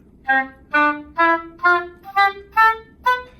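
Eight short, separate wind instrument notes articulated with the throat sound one after another in a steady rhythm, each rising slightly in pitch, soft, weak and somewhat unfocused.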